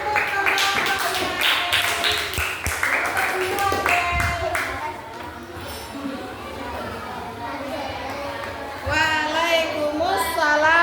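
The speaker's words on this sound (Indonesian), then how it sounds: "Kasih tepuk tangan untuk kelompoknya." Classroom of fifth-grade children clapping for a group after its presentation, a dense burst of applause with chatter and a few young voices mixed in, fairly loud and close throughout.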